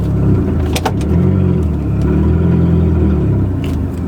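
An Audi TT with its exhaust fallen off is driven a short distance outside a house, giving a steady, close, low engine rumble that carries on without a break and has no talk over it.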